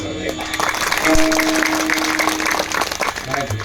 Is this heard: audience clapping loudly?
yes